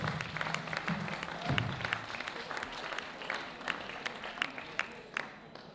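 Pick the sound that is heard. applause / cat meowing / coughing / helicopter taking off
applause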